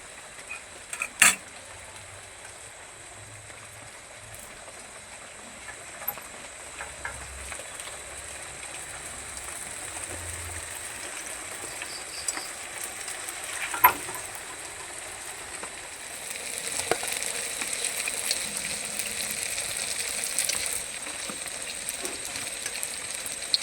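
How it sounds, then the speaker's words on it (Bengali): Pieces of paneer made from raw papaya fry in hot oil in a pan, giving a steady, soft sizzle with faint crackles and pops. The sound holds at a low, even level throughout, with no talking. "বাকি পনিরগুলো আমি একই রকমভাবে ভেজে নিলাম, ভাজা হয়ে গেছে, এখন তুলে নেব।"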